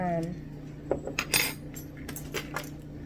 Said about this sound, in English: I use a spoon